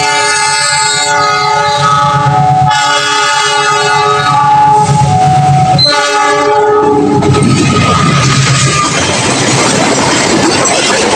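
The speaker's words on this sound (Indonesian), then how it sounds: "Ini dia kereta api Argo Wilis." Argo Wilis passenger train running straight through Cicalengka station without stopping, with long, loud multi-tone horn blasts that give way to the roar and clatter of the cars rushing past close by.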